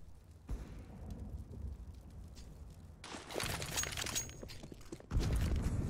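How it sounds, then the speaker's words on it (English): Grenade blasts in a CS:GO match on Inferno, dull rumbling booms and bursts of noisy debris swelling in two waves, fairly close and loud, with no talking. "the nade out towards the longhouse, dealing a good chunk of damage pretty much every single round"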